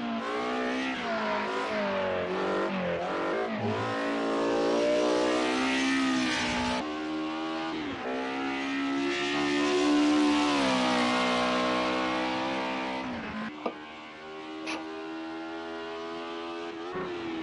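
A race car engine in the video game Project Cars 2 revs high and whines through gear changes, pitch climbing and dropping repeatedly, loud and close, with a brief sharp tick near the end.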